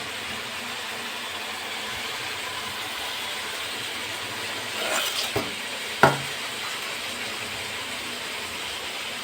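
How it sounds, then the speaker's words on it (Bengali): Meat frying in hot oil in a wok gives a steady, fairly quiet broadband sizzle that runs the whole time, with a couple of short sharp clatters near the middle. "মাংসটা এবার ভেজে নেওয়া হচ্ছে।"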